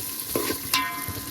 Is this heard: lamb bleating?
no